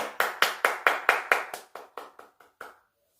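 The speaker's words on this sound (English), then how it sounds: "Let's give them another round of applause." A short burst of hand claps, about a dozen sharp, evenly spaced claps that grow softer and sparser before stopping.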